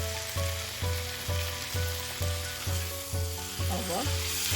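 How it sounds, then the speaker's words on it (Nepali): About half a kilo of chicken sizzles in a pan, frying loudly and close. The hiss pulses in a regular rhythm, as if being stirred, and runs on alone with no voices. "अब यसलाई मिक्स गरिदिउँ र यसलाई चलाउँदै 5-7 मिनट जति यसलाई फ्राई गरौँ"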